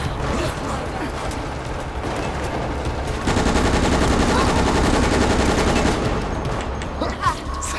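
Continuous loud gunfire from a Resident Evil: Operation Raccoon City shooter game, with bursts of rapid automatic fire that grow denser and more intense midway through, plus faint game effects underneath.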